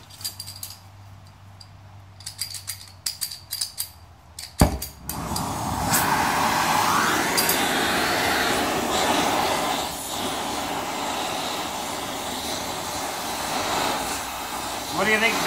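An oxy-acetylene torch heats a BMW trailer hitch. After a few metallic clinks and a sharp ignition pop, a steady, loud roaring hiss continues close by to the end.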